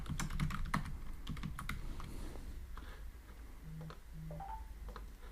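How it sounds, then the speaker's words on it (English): Keys on a computer keyboard clatter in a quick, light patter, close and fairly quiet, with a few separate taps and short pauses near the end. "I will type here"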